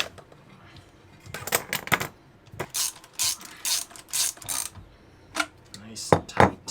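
A T-bolt hose clamp is tightened on a boat, giving a series of quick metallic ratcheting clicks in short bursts with pauses between, close and fairly quiet.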